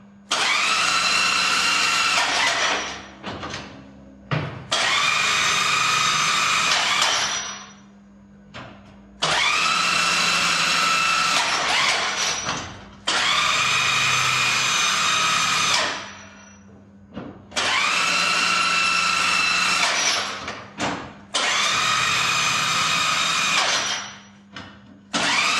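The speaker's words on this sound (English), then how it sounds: "Okay, so we'll now carry on with the sequence to climb the stairs." A Lectro Truck 6512E powered stairclimber climbing stairs with a load, loud whining motor bursts of a few seconds each separated by brief pauses and clunks, close and repeating in a regular stepping cycle.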